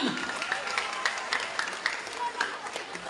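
An audience applauds at a children's song performance in Guagua, Pampanga, steady scattered clapping throughout, with a voice talking over it.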